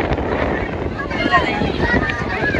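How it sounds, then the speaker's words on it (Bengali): Strong wind buffets the microphone steadily beside water during a village boat race, a broad continuous rush with people talking over it. "প্রচুর পরিমাণ হাওয়া চলতেছে"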